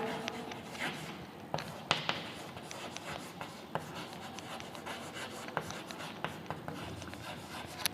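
Chalk or marker writing on a classroom board, faint scratchy strokes with irregular small taps as letters are formed, quiet and close.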